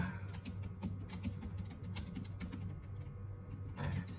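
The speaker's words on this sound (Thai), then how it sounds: "สมมติผมลองพิมพ์ตามนะครับ" Quick, steady keystrokes patter across a computer keyboard during a one-minute typing speed test, close and fairly soft, with a brief pause near the end before typing resumes.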